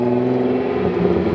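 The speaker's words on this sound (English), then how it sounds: "This car sounds obnoxiously good." A car engine idles close by with a steady, even hum and a slight rise in pitch toward the end, running continuously with no talk.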